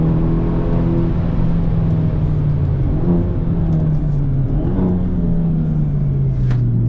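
A modified Hyundai Elantra N or Honda Civic Type R engine drones steadily at high revs under throttle, its pitch rising and dipping slightly, loud and close throughout.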